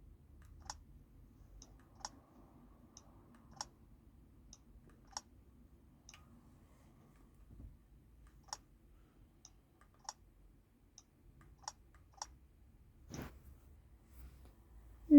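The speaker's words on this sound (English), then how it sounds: "the loud clicking." Loud, crisp clicks from a Nintendo game repeat at irregular intervals, each a sharp isolated tick over a faint low hum, with a denser burst near the end.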